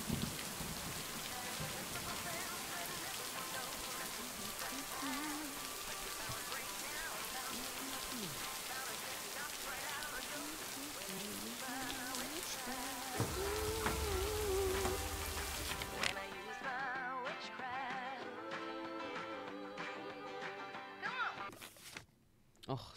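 Steady rain falls outdoors near a lake, a dense loud patter on surfaces throughout, with a low rumble in the middle and the sound dropping away near the end.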